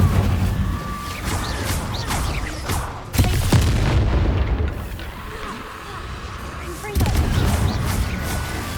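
Incendio fire spell cast in Hogwarts Legacy, heavy booming bursts of magical fire with rumbling, crackling blasts, loud and close, repeating in waves.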